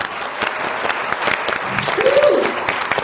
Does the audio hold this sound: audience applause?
yes